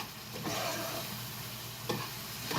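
Potatoes cook in a pan over a low gas flame for a Marathi kalvan curry, with a soft steady sizzle and occasional scraping stirs close by and no voices.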